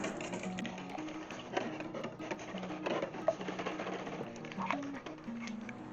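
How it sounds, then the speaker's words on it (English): Eggs, heavy cream and melted butter being whisked together in a bowl, a quick, steady patter of soft taps, close and fairly quiet. "I'm going to start with eggs, heavy cream, and melted butter. And I'm going to whisk all that together."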